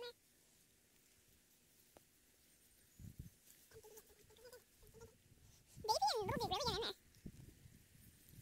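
A single wavering bleat rises clearly from a quiet outdoor background, preceded by faint rustling and a softer call.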